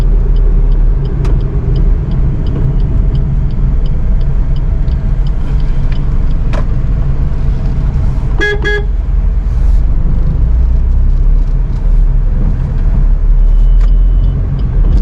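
A car drives in third gear through lightly jammed traffic, its engine running as a steady low rumble. Clicking indicator ticks and a short burst of horn honking stand out in the middle, with other traffic noise around.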